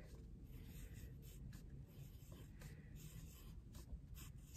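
A pen scratches out a word on paper in quiet, close strokes, soft rubbing scrapes repeating over a low background hum.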